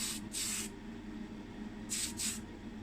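Tamiya Fine primer sprays from an aerosol can onto a die-cast Matchbox 1979 camper casting in two pairs of short, close hissing bursts with a brief pause between them.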